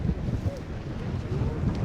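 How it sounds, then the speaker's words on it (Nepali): Strong wind blowing across open high ground in Mustang, Nepal, a steady low roar of gusts buffeting the microphone with rumbling surges, no clear speech. "यहाँ पनि हावा चाहिँ एकदम धेरै चल्ने"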